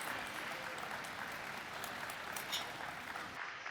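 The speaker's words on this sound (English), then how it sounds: "How about a round of applause for making this awesome event happen?" Distant, fairly faint audience applause at a town's 300th anniversary gala in Easton, a steady wash of clapping that cuts off near the end.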